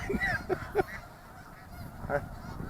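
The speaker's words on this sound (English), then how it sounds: "those snow geese come here to Ridgecrest, California every winter from Canada" Snow geese wintering in Ridgecrest, California give several loud nasal honks in quick succession, then a pause and one more call, fairly close with no talk.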